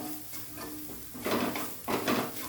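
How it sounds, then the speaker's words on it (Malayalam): Chili powder sautéing in a pan over the stove, with a soft continuous sizzle broken by two louder bursts of scraping and stirring from a utensil, no voices. "മുളക് പൊടിയുടെ പച്ച മണമൊക്കെ മാറുന്നതിന് വേണ്ടി ഒന്ന് ഇങ്ങനെ ഒന്ന് വഴറ്റിയെടുക്കാം"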